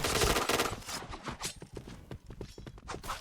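Shotgun blasts in a first-person shooter video game, a burst of several rapid, punchy shots followed by scattered sharper reports and clatter, fairly close and loud with no talk over them.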